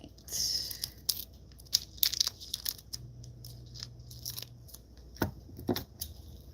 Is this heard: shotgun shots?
no